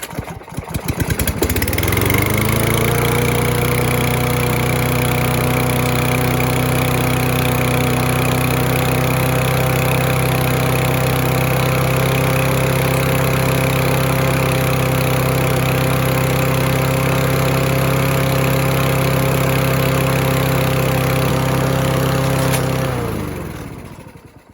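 A free, neglected Husqvarna lawn mower engine starts after a brief rough catch, then runs loud and steady at a constant pitch for about twenty seconds before cutting off, with no talking over it.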